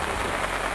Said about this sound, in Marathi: मित्रांनो बघा आता खूप पाऊस येणार आहे आणि आता व्हिडिओ काढायला जमणार नाही